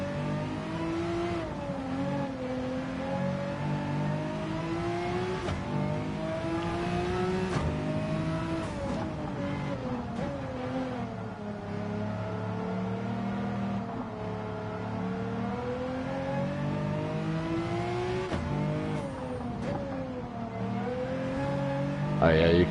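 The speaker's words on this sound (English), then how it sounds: "the sound inside the cab is just gorgeous on all these cars" A race car engine in Gran Turismo 7 endurance racing is heard from inside the cabin. It drones and revs continuously, rising and falling through the gears at a steady, loud level for the whole stretch.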